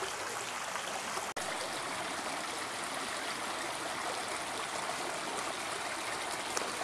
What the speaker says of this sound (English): This old brook just keeps running on